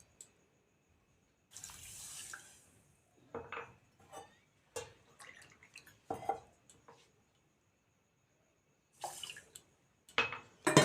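Water pours in short bursts into a saucepan holding a cup of sugar for syrup, with clinks of a cup against the pan and brief splashes separated by quiet gaps, close and fairly faint.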